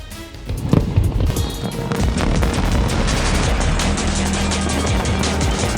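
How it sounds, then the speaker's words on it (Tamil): New Year fireworks burst over celebrating crowds, with a loud opening boom followed by a dense, continuous crackle and rumble of overlapping explosions. "உலகம் முழுவதும் வண்ணமயமான வான வேடிக்கைகளுடன் கோலாகலம்."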